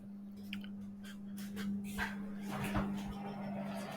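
A home freezer door is pulled open, giving a muffled thud followed by the rustle and scrape of the seal and contents, set against a steady low appliance hum, with no talk.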